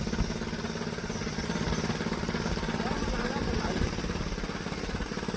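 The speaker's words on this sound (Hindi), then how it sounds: "कैसे ट्रैक्टर को लेके आ रहे हैं," Tractor engine hauling up a rough hill road in the mountains, a steady mid-pitched rumble and clatter heard somewhat faintly while people talk over it.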